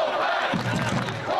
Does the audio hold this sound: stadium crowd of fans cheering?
yes